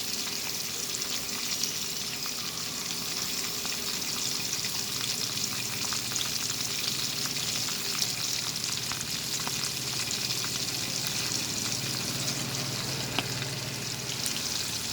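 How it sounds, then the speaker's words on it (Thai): Pork lung deep-frying in boiling oil, a steady, close, continuous crackling sizzle that holds at an even level throughout with no talking. "ดูความเดือดของน้ำมัน"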